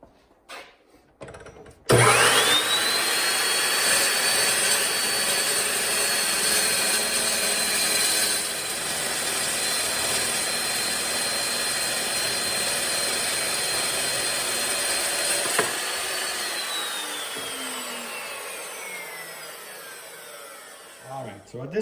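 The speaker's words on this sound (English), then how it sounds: "I can take it out of here to the chop saw, chop this off" A chop saw cuts through a Volvo Penta input shaft, starting with a sharp spin-up into a loud, steady whining grind that holds for about fourteen seconds before the blade winds down.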